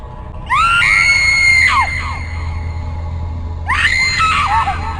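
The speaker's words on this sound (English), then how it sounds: "Chick on the floor, screaming, swatting at imaginary bugs on her skin." A woman in a video game screams twice, a long piercing shriek followed after a pause by a shorter one, loud and up close over a steady low rumble.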